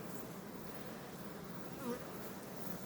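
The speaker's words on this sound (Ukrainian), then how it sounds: "Це вже зимня бджола." Faint buzzing of winter honey bees hovering close by, a soft continuous drone with a brief louder pass.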